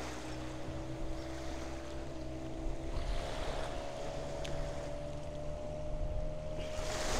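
A fishing boat out at sea off Mathagal, Jaffna, Sri Lanka, with a steady engine drone under a constant wash of waves and wind buffeting the microphone, and no talking.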